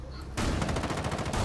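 Rapid burst of automatic gunfire in a shooter video game, loud and close, a dense rattling string of shots lasting over a second after a brief quiet start.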